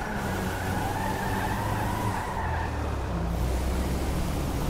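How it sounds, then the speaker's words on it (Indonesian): A Mustang in GTA 5 slides along with stuck tyres, a steady engine drone with scraping skid noise and faint tire squeal running continuously, fairly close and unbroken, with no talking. "Tuh, mobil Mustangnya ngesot-ngesot semua kayak gitu. Jadi bannya nyangkut itu."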